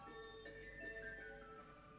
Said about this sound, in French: Marchand ambulant qui passe.